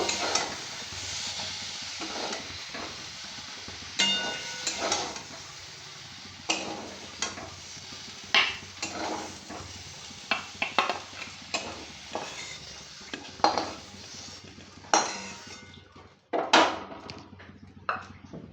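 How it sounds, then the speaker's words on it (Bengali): Fried pointed gourds, browned in oil, are stirred and scraped in a kadai, with irregular clattering spatula knocks and scrapes over a steady sizzling hiss, close and moderately loud, with no talking. "পটলগুলো হয়ে গেছে আমার লাল লাল করে ভাজা আমি এগুলো এবারে"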